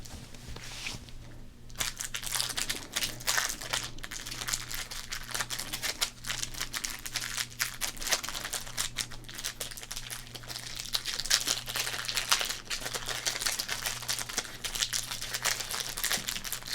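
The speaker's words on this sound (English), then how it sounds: "Good crinkles right there." A 1991 Pro Set Platinum football card pack wrapper crinkles steadily near the microphone, with crisp, dense rustling that begins after a brief quiet moment and continues throughout.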